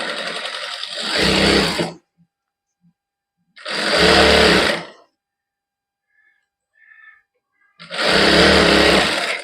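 A sewing machine runs three times in short bursts of about a second each, stitching a loose basting seam on a lined salwar, with near silence and faint small handling noises between the runs.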